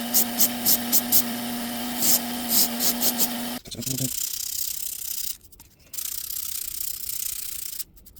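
Rhythmic scratchy strokes of sandpaper rubbing against a wooden bowl, repeated in quick bursts over a steady motor hum, followed by quieter rustling and handling noise.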